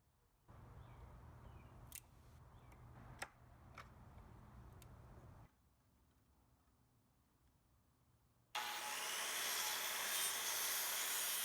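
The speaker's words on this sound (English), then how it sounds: "I'm going to be doing that cut with my circular saw with a nice finish blade on there for a nice clean cut" After a few quiet clicks and handling knocks, a circular saw fitted with a finish blade starts cutting wood, giving a loud, steady, broadband whine for the last few seconds.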